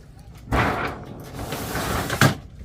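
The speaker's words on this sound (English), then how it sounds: "close the door" A door in a Ford Transit AWD camper van conversion swings shut with a soft thud followed by a brief sliding, rattling movement and a sharper knock near the end, close by.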